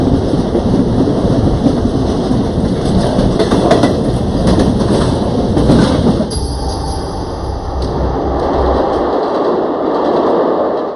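Inside a moving passenger train in India, a loud continuous roar and rattle of the carriage fills the whole stretch, easing slightly partway through, with no voices.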